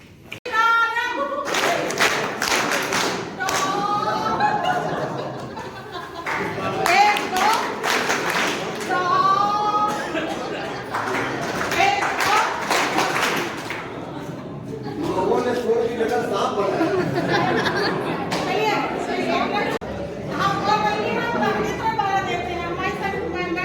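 Clapping from an audience at a three-day maths teacher-training session for upper primary teachers in Manjhanpur, Kaushambi, coming in several loud bursts of varied length, mixed with chatter and a speaking voice throughout.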